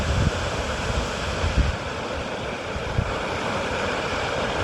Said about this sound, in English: Wonderful sound of the waterfall.